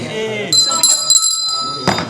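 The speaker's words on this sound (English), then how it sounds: "Can I use the bell? Yeah, ring the bell." A bell rung at a community repair café rings out in a few bright, sustained strikes with a shimmering ring, heard near and clear amid people talking.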